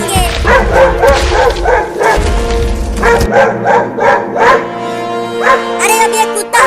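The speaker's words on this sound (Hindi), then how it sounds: "अरे अब ये कुत्ता हाथी के ऊपर क्यों भौंकने लगा?" A dog barks repeatedly at an elephant in a comedic outdoor scene, loud rhythmic yapping barks close up, with a low rumbling background underneath at first.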